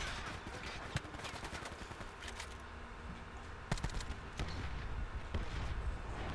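Gunfire in a Black Ops 4 free-for-all match, rapid rattling volleys and scattered sharp shots over a constant noisy game background, some bursts close and loud, others more distant.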